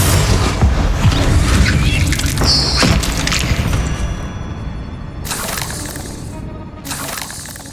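A Confringo spell bursts in the Hogwarts Legacy video game, with loud booming blasts and crackling, shattering debris amid busy combat noise, followed by further sharp bursts as the action continues.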